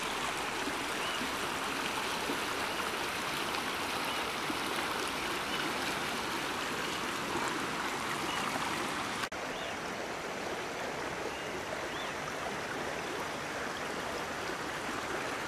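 A shallow, slow stream below the Nant Fall waterfalls near Trevelin, Argentina, gives a steady, close babbling rush of water that runs unchanged for the whole stretch, with no voices.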